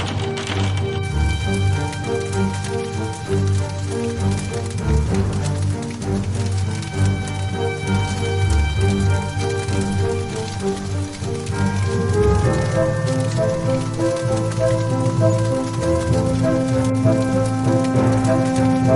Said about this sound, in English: The heavy hailstones pounded everything, creating a chaotic and terrifying scene that would never be forgotten.